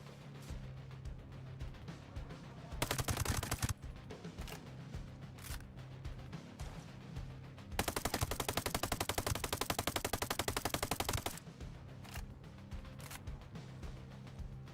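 Rapid automatic gunfire hitting enemies in Ghost Recon Breakpoint, sustained crackling bursts of shots, with two long loud volleys over a low steady background hum.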